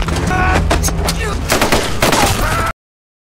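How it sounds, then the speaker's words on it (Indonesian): Rapid, continuous gunfire in a violent attack, loud bursts of shots fired in quick succession with booming impacts, close and dense before cutting off abruptly. "Semua tembakan yang bertubi-tubi tanpa henti itu ternyata terdengar sampai ke telinga pimpinan tentara sebelumnya"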